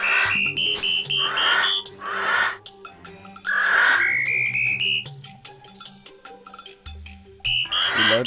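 A whistle item in modded Terraria blows a series of sharp, bright tones, several rising whistles in quick succession over game music, loud and close.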